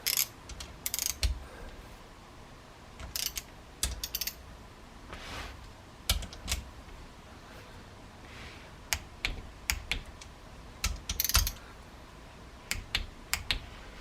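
A ratchet runs engine bolts down during a 1969 Honda CL160 engine rebuild, giving quick bursts of close, crisp clicking separated by short pauses, with no talk.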